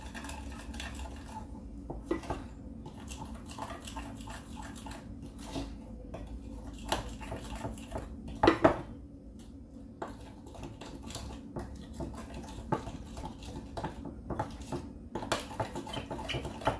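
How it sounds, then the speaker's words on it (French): A spoon scrapes and clinks against a bowl while cocoa powder is stirred with a little milk into a paste, with steady quiet scraping and occasional louder taps. "on prépare environ 60 à 70 grammes de cacao qu'on va mélanger avec un petit peu de lait"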